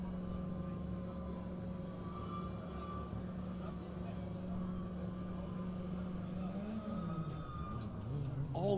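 A Formula Student race car on a historic skidpad, its engine droning steadily at moderate distance and rising in pitch near the end, with a commentator talking over it.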